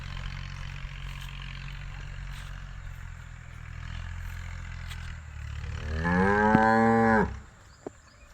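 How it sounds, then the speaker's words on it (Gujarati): A single deep, drawn-out buffalo moo rises near the end over a steady low rumble of background noise at a farm stable, followed by a brief knock. "ખેતરમાં ભેંસો બંધેલી છે."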